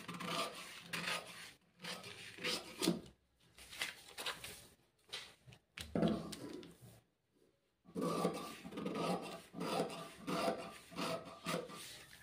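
Scissors cutting a paper pattern for a size 38 four-tuck blouse, heard as close, repeated rasping snips in short bursts separated by brief pauses.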